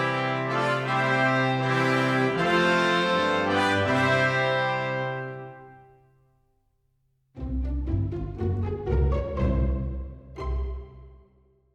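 Three trumpets play a thickened melody with trombones doubling an octave below, a bright sustained brass phrase that fades into silence, then a second punchier passage of accented brass chords over a low bass.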